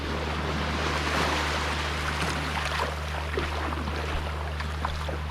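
Water flowing at a small river mouth on Nacula Island, Fiji, a steady close rushing wash with surf-like texture and some wind buffeting on the microphone, no voices.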